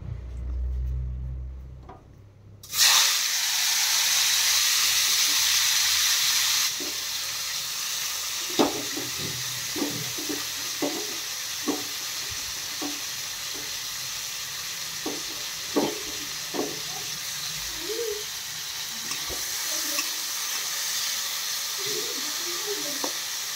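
Okra rubbed with salt and turmeric drops into hot oil with a sudden loud burst of sizzling, which settles into a steady close frying hiss broken by occasional stirring clicks.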